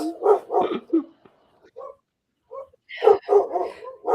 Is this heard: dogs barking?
yes